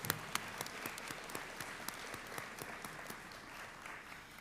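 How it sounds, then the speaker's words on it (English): Applause from the audience at a Seattle Colleges convocation ceremony, a dense, steady wash of many hands clapping that carries evenly through the whole stretch with no talk over it. "let's give another round of applause for everybody on stage as well as our guests."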